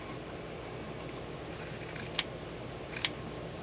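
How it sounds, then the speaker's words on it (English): Pinking shears snip through fabric for a quilt block, giving two short, crisp cuts spaced about a second apart over a quiet, steady room background. "I just grabbed these, which happen to be pinking shears,"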